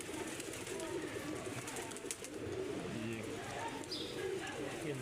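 Teddy pigeons coo steadily at close range in a busy loft, with other birds chirping and a constant murmur of background noise.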